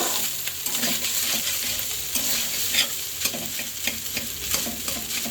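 Leftover cooked rice stir-fries in a hot pan, giving a steady dense sizzle broken by repeated scraping and stirring strokes, close up and without speech.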